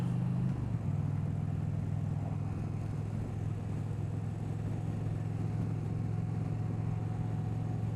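A 2025 Indian Roadmaster 112 motorcycle under way, its engine a steady low drone that holds even and unbroken with constant road and wind noise while turning into an intersection.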